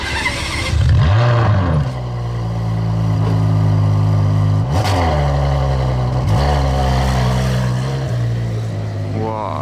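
A Ferrari GTO V12 car engine starting up outdoors: a loud crank and catch, then a deep steady idle with a few throttle blips, heard up close with some background noise.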